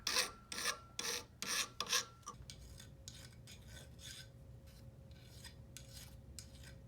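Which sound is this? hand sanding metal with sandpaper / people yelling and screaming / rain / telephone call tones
hand sanding metal with sandpaper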